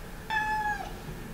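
A cat gives a single short, clear meow indoors, fairly faint against a low background hum.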